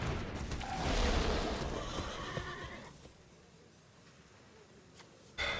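A horse whinnies in the Magic: The Gathering Arena digital card game, a loud, drawn-out neigh that fades into quieter game ambience before a short sharp effect near the end.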